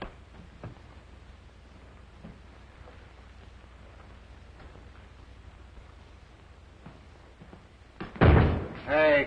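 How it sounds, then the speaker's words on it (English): An old 1938 Western film scene: after quiet room tone with faint creaks, a wooden door slams shut loudly near the end, followed by a second heavy thud. "Hey, careful of that door. You make my muffins fall."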